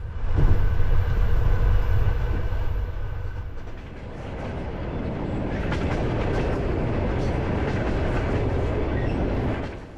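Inside a moving passenger train on a multi-day journey, a steady loud rumble fills the carriage with rhythmic clickety-clack of wheels over rail joints, the roar dipping briefly then settling into a continuous rolling drone.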